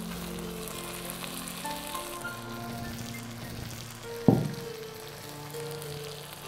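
Fried onions and spices sizzle steadily in a pot for jackfruit biryani, a soft continuous frying hiss with one brief clatter as more fried onion is added partway through.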